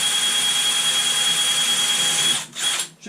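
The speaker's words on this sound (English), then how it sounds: "Doesn't take long, this is really shit metal." Loud continuous whine of a power drill with a dull bit cutting through a thin, cheap metal pedal enclosure, holding steady for a few seconds before cutting out and restarting in short bursts.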